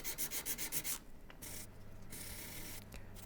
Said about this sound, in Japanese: 完全に固化したらエポキシ樹脂を削っていきます。